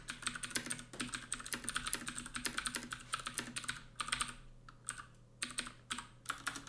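Steady rapid typing on a computer keyboard while writing code documentation, a dense run of close key clicks with brief pauses, no voices.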